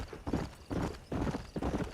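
Horse hooves clip-clop in the video game Red Dead Redemption, with four even bursts of trotting steps in a steady rhythm at close range, heard alone.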